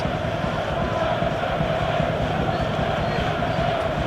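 Football stadium crowd at a Premier League match between Crystal Palace and Leeds United, a steady dense roar of many voices with restless murmuring, continuous and fairly loud throughout, no distinct chants standing out.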